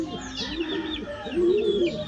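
Pet pigeons cooing nearby in soft, rolling throaty calls, two clear coos rising and falling in sequence with faint background chatter from other birds.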